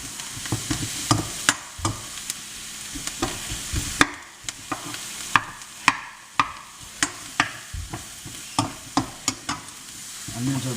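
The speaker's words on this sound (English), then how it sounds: "Onions are browning nicely." Onions and mushrooms fry in a pan with a low continuous sizzle, broken by sharp, regular clacks as a utensil stirs and scrapes the pan, close up with no talking.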